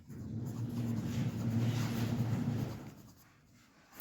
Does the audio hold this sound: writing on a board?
yes